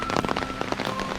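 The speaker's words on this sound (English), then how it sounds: "it started raining, as you can see" Rain falls on an umbrella in a coastal small town, a dense, loud patter of drops close overhead filling the short stretch without pause.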